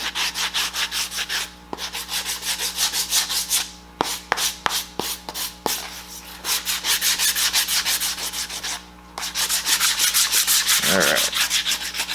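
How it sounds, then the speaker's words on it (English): Close, steady sanding of the blade edge on a foam prop axe with a fiberglass coat, in long rubbing strokes with a few brief pauses and light knocks. "I want to sharpen that blade a little bit."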